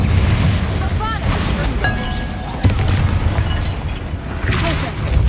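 A Bombarda spell goes off in Hogwarts Legacy with a loud booming explosion and crashing debris, with combat effects and voices over the rumble throughout.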